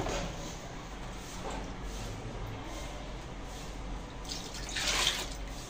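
A soaked mixture of dawa, millet and corn is poured out, giving a steady wet trickle and drip with a louder splashing surge near the end, close and without voices.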